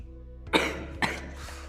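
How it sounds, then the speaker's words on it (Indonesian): A student gives two sharp coughs in a quiet classroom, close to the microphone, with a softer throat-clearing sound trailing after. "Kamu nih batuk-batuk, minum obat."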